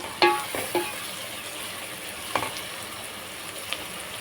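Ginger garlic paste hits hot oil in a pan for a Telugu curry, giving a few sharp sizzling crackles near the start, then a faint steady frying hiss with one more spatter midway.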